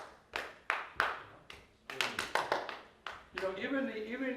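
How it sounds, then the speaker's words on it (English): Hands clap out a rhythm in a music lesson, a series of crisp, close, separate claps in an uneven, syncopated pattern, followed by a voice that talks over the last part. "Can you clap this?"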